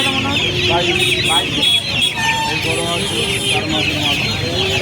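Chickens and roosters clucking and calling at a busy hen market in Uluberia, a steady jumble of bird calls close by, with people talking throughout.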